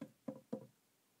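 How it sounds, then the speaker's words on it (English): Three soft knocks on a surface, evenly spaced and close, in a quiet room. "knock three times"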